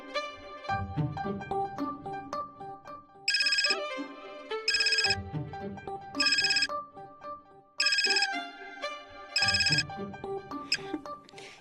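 A mobile phone ringtone plays a looping melodic tune, with bright repeated bursts recurring every second or so, fairly close and clear.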